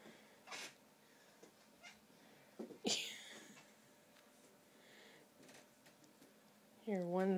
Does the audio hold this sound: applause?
no